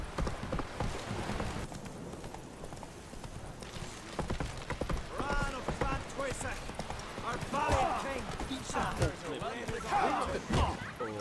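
Rhythmic clip-clop of horse hooves trotting in the video game Witcher 3, mixed with game sounds and a person talking over it throughout.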